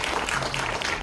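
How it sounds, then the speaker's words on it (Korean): A short burst of steady applause from a lecture audience, many hands clapping together at once. "큰 박수를 부탁드리겠습니다"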